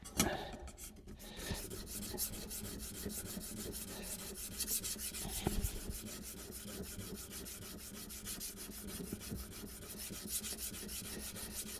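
A hand plane blade rubbed back and forth on a sharpening stone, rocking low then back up, giving a steady close rasping scrape that continues throughout without talk.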